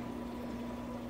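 Water drains out of a betta fish tank to lower its level, a brief, steady pouring and pumping rush with a constant low hum underneath.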